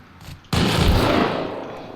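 Auto turret gunfire in the game Rust, a sudden loud burst that sets in after a quiet moment and holds as a dense, roaring rattle before easing off slightly toward the end.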